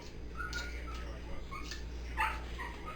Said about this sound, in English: You might hear a dog in the background